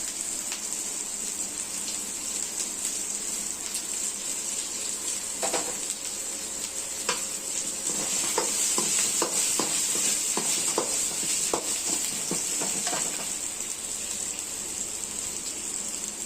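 Steady hiss of curry leaves frying in hot oil in a pan while cooking country chicken curry, with scattered crackles and pops over the constant sizzle.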